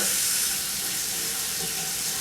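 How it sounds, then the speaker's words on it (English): Hot water runs steadily from a bathroom tap, a dense, continuous hiss and splash at close range with no talk over it. "Turn on the hot water."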